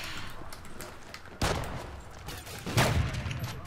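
Game gunfire during a Call of Duty-style trickshot match, with a sharp report near 1.4 seconds and a second louder burst near 2.8 seconds over a busy background of game noise.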